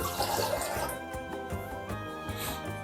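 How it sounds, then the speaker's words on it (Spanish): A cup of water poured into a Ninja Foodi pot holding chopped tomatoes, onion and whole garlic, heard as a brief splashing pour followed by softer trickling, fairly quiet. "vamos a echar una taza de agua"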